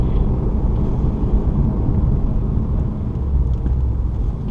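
Race car lapping Laguna Seca through turns 1 and 2, a steady, loud, low engine drone with road rumble, heard from inside with no talking.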